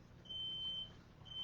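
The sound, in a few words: smoke alarm beeping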